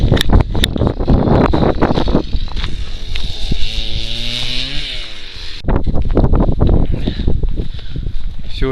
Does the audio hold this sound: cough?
no